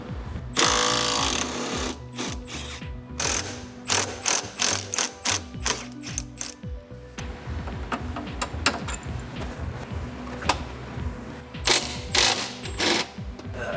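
A hand ratchet works loose the stock traction link on a Lexus IS300, giving bursts of rapid close clicking that stop and start in uneven runs, loud and alone without talk.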